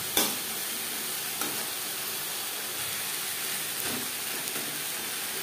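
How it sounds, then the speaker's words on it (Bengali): Drumstick leaves and grated coconut stir-fried over a high gas flame give a steady, close sizzle with a few sharp scrapes of a spatula against the pan, and no talking. "হাই ফ্লেমে আরও 2-3 মিনিট নাড়াচাড়া করে নেব।"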